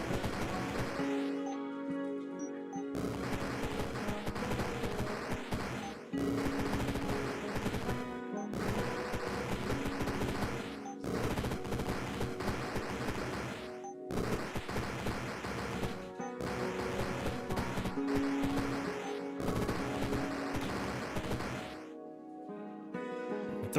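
Video game gunfire as a player shoots enemies, with long, dense bursts of rapid shots separated by short pauses, loud and close throughout.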